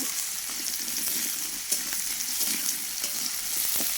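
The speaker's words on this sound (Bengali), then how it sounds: "এই যে মাছের মুড়া দিয়ে আলুটা ভেজে নিচ্ছি" Potatoes frying with a fish head in a pan over a wood-fired clay stove, giving a steady close bright sizzle with a few faint stirring knocks, no talk.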